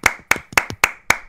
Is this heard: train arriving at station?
no